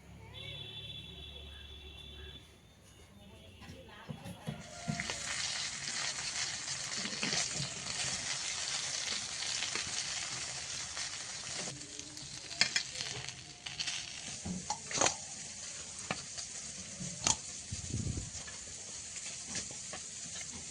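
Fish pieces frying in hot oil, a loud sizzle that starts suddenly and holds steady, with occasional spatula knocks and pops, heard close under intermittent talk.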